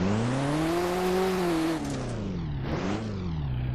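A car engine in an offroad car sim video game revs hard and steady as the vehicle climbs a slippery, oily road, its pitch rising and falling with a brief dip, loud and continuous, with no talking.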